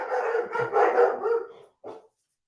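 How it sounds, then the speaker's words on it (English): A dog barks in a quick run of sharp, close yaps, then a pause and one final short bark. "I don't know if you heard the dogs barking"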